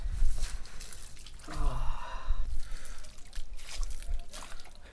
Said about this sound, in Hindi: क्या रिलैक्स मिला है पैरों पे पानी गिरा के